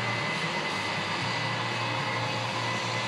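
A Case IH 7010 combine harvests a narrow strip of soybeans, giving a steady, droning engine and machinery roar with a constant low hum, heard from a moderate distance and unbroken throughout.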